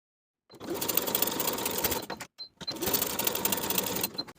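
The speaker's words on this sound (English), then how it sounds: "Baste the facing to the front short piece along both edges with about 1/2 inch seam allowance." A sewing machine bastes a facing onto the front piece of linen shorts, running in two close, steady bursts of rapid mechanical stitching separated by a brief pause, with small clicks at the stops.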